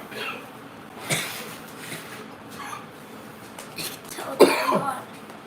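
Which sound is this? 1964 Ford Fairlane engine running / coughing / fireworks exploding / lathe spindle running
coughing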